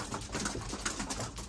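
Racing pigeons coo softly close by in low, rolling murmurs, a quiet steady burble from several birds.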